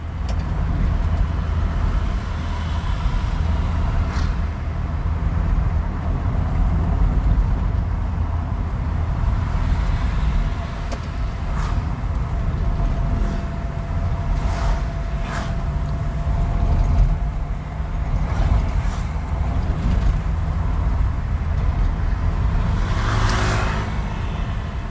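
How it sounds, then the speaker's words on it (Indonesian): A motorcycle ridden fast on touring roads drones steadily with a loud, noisy exhaust and heavy low rumble and wind noise, sustained close throughout with occasional clicks and bumps. "Knalpot pun terasa bising."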